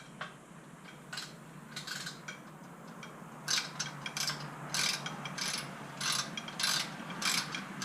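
A hand ratchet clicks in repeated short bursts while tightening the bolts that hold a bottle jack on a Harbor Freight motorcycle lift, close and crisp over a steady low garage hum, with no talking.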